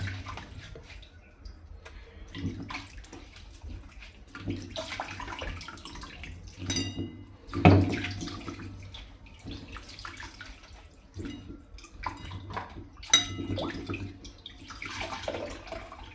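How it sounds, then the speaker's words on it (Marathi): Water splashes and sloshes as bitter gourds are rinsed in a bowl, with intermittent clatter and handling noises; no talking. "सगळ्यात अगोदर मी कारले आहे ते धुवून घेते"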